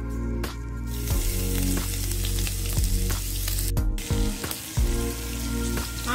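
Grated ginger and garlic frying with mustard seeds in hot mustard oil, a steady loud sizzle with crackling spatters and occasional stirring clinks, close and continuous.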